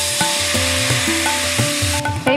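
Nigella seeds sizzle in hot oil while tempering for a Bengali tilapia curry with mustard paste, a loud, close, continuous frying hiss with crackles, heard alongside a steady melodic background tune and no talking.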